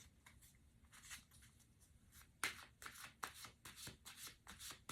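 Tarot cards riffled and shuffled by hand, a soft papery rustle that builds into a rapid run of crisp, evenly spaced snaps and flicks as cards are drawn and laid down, close and moderately quiet with no talking.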